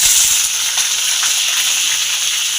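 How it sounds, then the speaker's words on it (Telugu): Paneer cubes fry in hot oil in a kadai, giving a steady, bright hiss and crackle of sizzling throughout, close and continuous with no voices. "ఆయిల్ హీట్ అయిన తర్వాత నేనైతే పన్నీర్ అయితే వేస్తున్నాను ఫ్రెండ్స్."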